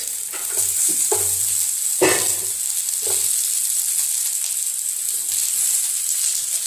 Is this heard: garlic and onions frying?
yes